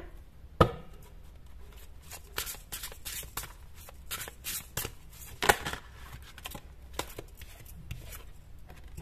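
A deck of playing cards being handled and drawn, with a sharp snap near the start and another about midway, between soft, scattered rustles and taps close by.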